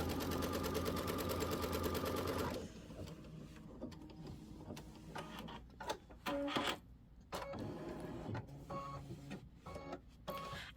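Home sewing machine steadily stitching a scallop border on a quilted project, a dense continuous whir for the first few seconds that stops abruptly, followed by quieter handling clicks and rustles.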